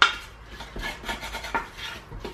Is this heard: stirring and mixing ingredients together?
yes